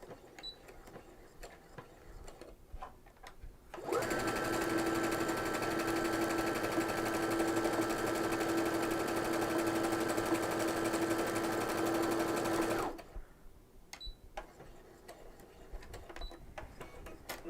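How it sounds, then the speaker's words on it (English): A sewing machine with a fringe/looper foot stitches a straight line along an edge, running steadily for about nine seconds, a fast even whirring stitch, with quiet room noise before and after. "we're going to sew a straight line right along the edge"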